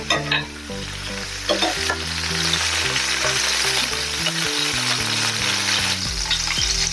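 Eggplant frying in oil for khara baingan, a continuous sizzle with stirring scrapes, accompanied by a layer of steady melodic background music.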